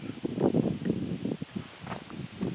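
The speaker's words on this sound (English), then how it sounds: "Wind's blowing" Wind stirs autumn trees near a riverside bridge, giving soft uneven rustling gusts that swell and fade, fairly faint and close to the microphone, with no voices.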